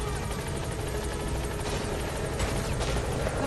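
Pequod helicopter from the video game Metal Gear Solid V, a steady, loud rotor thump and engine whine that stays close and constant throughout, with no voices.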